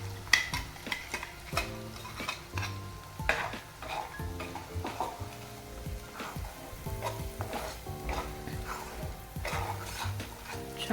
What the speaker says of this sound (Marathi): हे छान असं वाटण आपण काढून घेऊया। टाकूया तेलामध्ये परतायला।